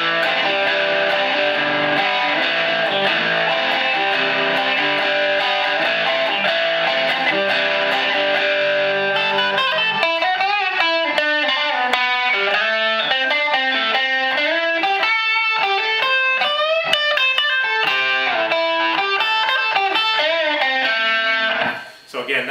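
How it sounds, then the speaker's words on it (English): A Standard Strat played through a Boss pedal into a ZT Lunchbox amp gives a gritty, distorted tone, starting with sustained chords and then moving into choppy, fast rhythmic riffing that stops abruptly at the end. "that's the sound of the Boss pedal coming through there"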